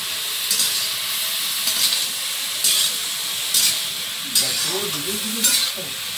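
Chunks of elephant foot yam fry in a pan in a home kitchen, a constant sizzling hiss broken by periodic scraping stirs, with a faint voice briefly in the background.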